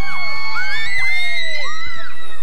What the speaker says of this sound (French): Je suis certaine que vous êtes capable de crier plus fort que ça.